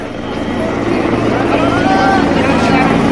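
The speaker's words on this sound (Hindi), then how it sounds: "लगातार राम मंदिर परिसर के ऊपर सीएम का ये हेलीकॉप्टर उड़ रहा है।" The Uttar Pradesh chief minister's helicopter circles above the Ram Mandir complex in Ayodhya, its loud, steady rotor drone growing slightly louder and running throughout over crowd noise.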